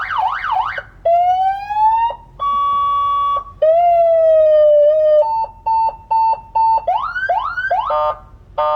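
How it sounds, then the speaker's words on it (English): An aftermarket police-style siren unit fitted to a car cycles through its tones: warbling wail, rising sweeps, steady yelps and rapid pulsing bursts, loud and close with brief gaps between patterns. "You can't use the sirens."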